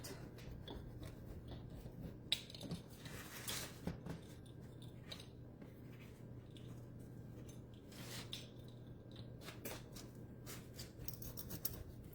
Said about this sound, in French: On a le rouleau à pizza. Fait qu'on fait une croix. On va couper ça en 8.